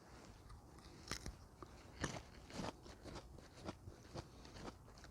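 Raw Chinese artichoke (choseokjam) tuber bitten and chewed: a series of crisp, quiet crunches close up, spaced irregularly across the stretch, with no talking.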